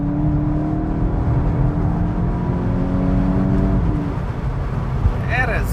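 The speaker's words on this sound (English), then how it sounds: "I'll downshift. Second gear, foot flat." Heard from inside the cabin, a VW Golf 8 GTI pulls hard in second gear at full throttle, its engine note rising as a steady muted drone under road noise.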